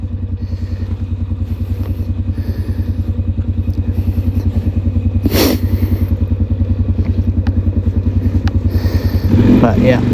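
Honda Rincon 650 ATV running steadily on a dirt road in snow, its engine a loud, continuous close-up drone with a fast regular pulse and a brief clatter midway.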